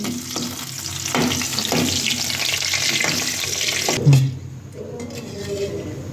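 Four dried red chillies frying in oil for a masoor dal dish, a close continuous sizzle with a few stirring knocks, ending in a brief louder clatter followed by a quieter hiss.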